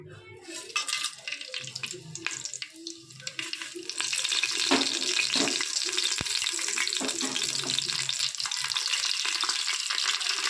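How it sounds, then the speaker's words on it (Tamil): Peanut oil heating and starting to sizzle in a pan, a soft hiss that grows steadier and louder after a few seconds, with faint clinks and crackles. "ஆயில் ஊற்றிக்கிறேன் கடலெண்ணெய் எண்ணெய் நல்லா காயட்டும்"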